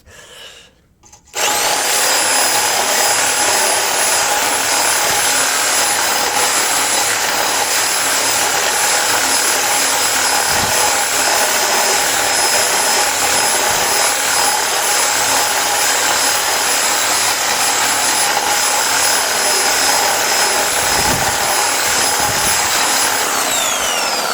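A reciprocating saw fitted with a wire brush attachment runs at maximum speed, giving a loud, continuous, close buzzing whine after a brief start, with occasional scraping contact.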